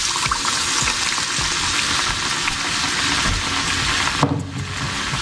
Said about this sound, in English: And now we're going to drop in the oil.